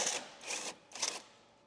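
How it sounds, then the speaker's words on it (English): A 1/2-inch impact wrench with a 10mm socket spins out the AC low pressure line mounting bolt on a 2006-2011 Honda Civic, firing three short, rattling bursts in quick succession at low volume. "Use a 10mm socket with a 1/2-inch impact to remove the mounting bolt of the AC low pressure line"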